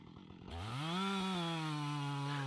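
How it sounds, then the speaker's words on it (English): A chainsaw revs up from a quiet start into a loud, steady cutting whine, its pitch rising sharply then holding high and sustained close by. "When you begin to make a cut with a chainsaw"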